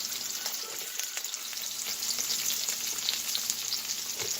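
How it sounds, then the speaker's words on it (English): Onions sizzle steadily in a hot wok, a constant crackling fry with small bursts of spitting and popping, fairly close and with no talk. "You hear that sizzling sound it's making?"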